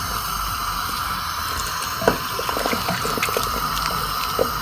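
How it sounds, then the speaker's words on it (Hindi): Water pours steadily into a pot of mutton nihari, to which flour has just been added, making a continuous rushing splash with a few small plops, loud and close, with no talk. "1 गिलास और पानी शामिल करेंगे ताकि आटा हमारा अच्छी तरह पक जाए।"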